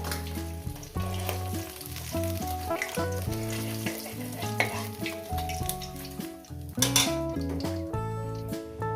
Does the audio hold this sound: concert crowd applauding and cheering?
no